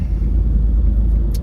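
Steady low rumble inside a car while driving, a constant loud road and engine drone filling the whole clip with no talking.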